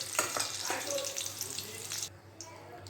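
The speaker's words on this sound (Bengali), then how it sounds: "আমি ভেজে নিচ্ছি আলুগুলোকে।" Potatoes fry in hot oil for a vegetarian aloo dum, giving a steady, fairly loud sizzle that drops away sharply near the end.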